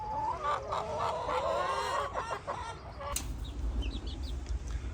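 Several chickens cluck and murmur nearby, with some wing flapping and a few higher squawks in the second half.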